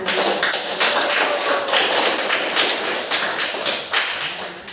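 Classroom applause after a group presentation, a dense, steady patter of many hands clapping throughout with uneven accents, close and loud, no talk over it.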